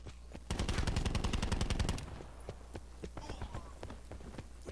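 Rapid automatic gunfire in Call of Duty Black Ops 4, a loud, fast burst of evenly spaced shots lasting about a second and a half, then scattered fainter game sounds and occasional single shots.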